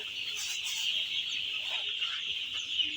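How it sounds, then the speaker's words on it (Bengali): Many four-day-old broiler chicks peep together in a dense, continuous high-pitched chorus, heard at a steady moderate level with no talking. "মুরগি আজ চার দিন পর্যন্ত আলহামদুলিল্লাহ সুস্থ আছে"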